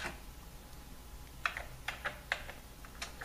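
Quiet, close keystrokes on an Atari computer keyboard while entering a BASIC program: a handful of light, irregular clicks over a faint background hum, with no talk.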